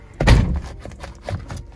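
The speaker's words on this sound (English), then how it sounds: "when you close the door" An old beater car's door slams shut with a heavy, close thunk, followed by a few softer rattling knocks.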